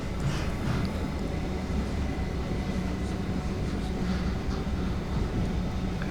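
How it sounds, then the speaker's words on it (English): Aboard a Great Western Railway train passing through Keyham, a steady low rumble of wheels and carriage noise rolls on evenly throughout, with faint clatter on top. "I'm on the Great Western Railway train going through Keyham now"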